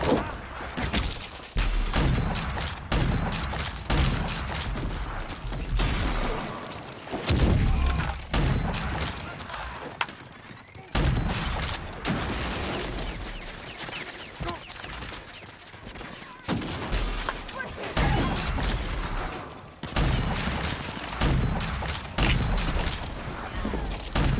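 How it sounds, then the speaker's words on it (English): Sustained machine gun fire in the shooter game Rage 2, loud continuous bursts with booms and impacts, pausing briefly a few times. "One big machine gun"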